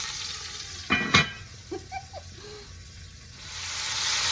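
Seasoned beef for chili sizzles steadily in a pot, a soft continuous frying hiss with a couple of brief clinks of a utensil against the pot and no talking.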